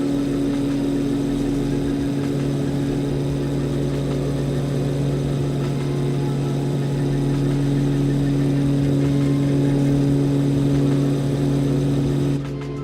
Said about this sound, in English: the engine sounds have basically stayed the same